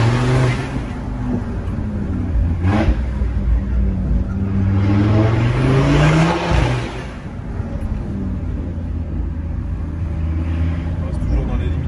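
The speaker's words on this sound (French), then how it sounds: "on entend aussi la redescente du turbo" A turbocharged car engine revs loud and close, its pitch climbing and then dropping as the turbo spools down, with a steady drone continuing throughout.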